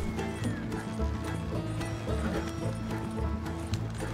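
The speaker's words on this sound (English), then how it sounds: "Oh, the horse is coming as well." Steady clip-clop of horse hooves in Red Dead Redemption 2, rolling along at a moderate pace, mixed with ambient game sounds and a low background hum.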